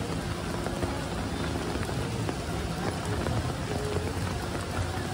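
Rain falls steadily on a city street in Taipei's Ximending shopping district, a dense, even hiss of drops hitting the pavement up close, with no talking over it.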